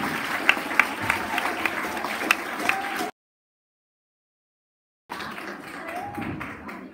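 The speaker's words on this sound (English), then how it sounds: "Let's give a round of applause to congratulate all our grade 7 learners" A crowd clapping with a dense patter of applause at a school prize-giving ceremony, cut off by a stretch of silence before the clapping resumes at a similar level.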